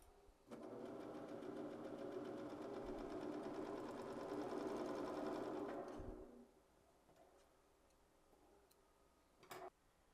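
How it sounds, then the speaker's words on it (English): Sewing machine running steadily as a dress seam is stitched, loud and continuous for about six seconds, then stopping into quiet with a brief click near the end. "I'm cutting off the seam allowance as I sew"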